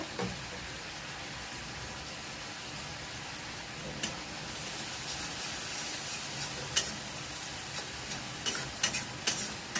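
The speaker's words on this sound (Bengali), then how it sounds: "একটু ভেজে নেব, তারপরে হলুদ আড়িয়ে দেব।" Spices frying in a pan in a home kitchen give a steady, moderate sizzle, with a few sharp scrapes and clicks of stirring breaking through now and then.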